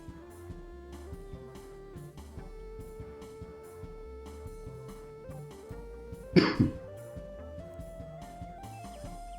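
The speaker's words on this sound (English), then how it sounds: "I had a cough there." Over steady background music, one short sharp cough bursts out about two-thirds of the way through, close and loud, and then the music continues alone.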